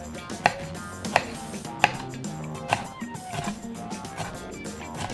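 A knife slices a radish into thin diagonal slices on a cutting board, four or five sharp, evenly spaced chops heard close, with quieter kitchen noise between strokes.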